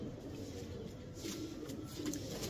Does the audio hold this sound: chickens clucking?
no